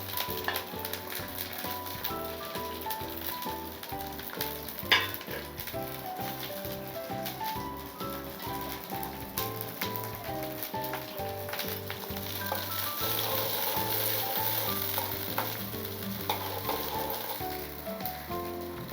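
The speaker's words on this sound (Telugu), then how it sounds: "ఇప్పుడు మనం పచ్చిమిరపకాయలు వేసుకుందాం" Green chillies fry in hot oil in a pan, giving a steady sizzle with crackling and spattering pops that swells in the later seconds, with no talk over it.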